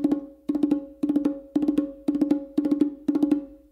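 Four open tones on bongos run together as one continuous phrase, repeated seven times at a steady, even pulse. The hand strikes ring close and resonant and leave almost no gap between groups, with no talking.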